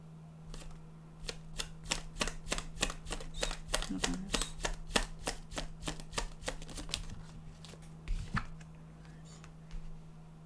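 Tarot cards shuffled close up in a steady run of crisp riffling snaps, about two dozen quick strokes over a low steady hum, with a brief pause near the end before a few more.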